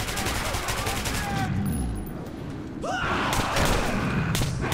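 Rapid gunfire in Metro 2033 Redux: sustained bursts of automatic shots, loud and close, with a brief lull in the middle before the firing resumes, under panicked shouting.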